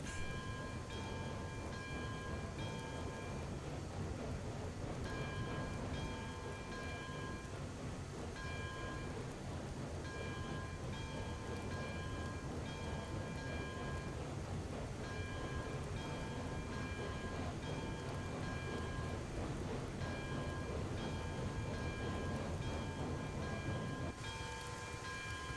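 Locomotive in the Railroads Online video game running with the throttle notched well up, a steady loud rumble with rail clatter and tonal whine holding continuously throughout with no talk.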